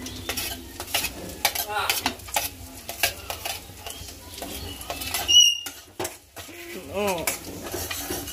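Chopped onions for a vegetable dish cook in hot oil in a home kitchen, with a metal spoon scraping and clattering against the pan over a soft sizzle, plus intermittent nearby talking.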